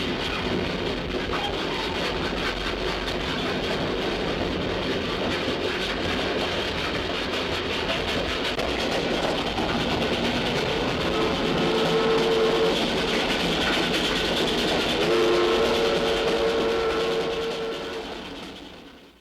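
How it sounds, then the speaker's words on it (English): A railroad engine pulls a train rocking across the rails, a steady continuous rumble with faint clickety-clack and brief tonal squeals, loud and close throughout before fading at the very end. "A railroad engine turns its rhythms into power that carries a train rocking across the rails from city to"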